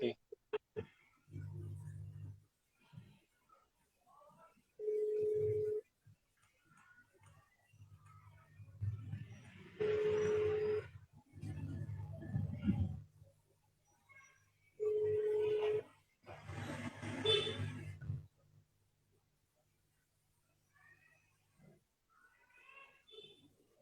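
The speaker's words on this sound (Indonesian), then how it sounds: "Aku coba telepon ya." A phone call is placed: touch-tone dialing followed by repeated ringback tones, with someone speaking briefly in Indonesian between rings in a quiet room.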